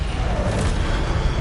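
A Incendio fire spell cast in Hogwarts Legacy makes a steady, loud roaring whoosh of flame that fills the whole short moment without a clear start or end.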